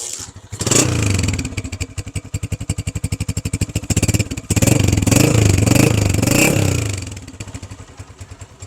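A 2019 Honda CG 125 Classic single-cylinder motorcycle engine runs up close, chugging in a steady pulse at idle, then revving louder for a few seconds before easing back down to a rhythmic idle.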